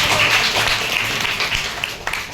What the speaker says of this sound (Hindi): एक बार तालियां अतिशयोक्ति अलंकार